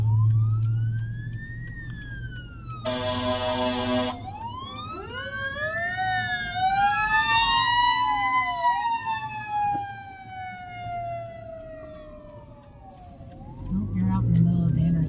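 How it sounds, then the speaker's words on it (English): A fire truck's wailing siren in Manhattan, Kansas rises and falls in long sweeping tones, loud and close as it passes an intersection, with a short horn blast partway through and traffic rumbling underneath. "Oh, here comes fire truck."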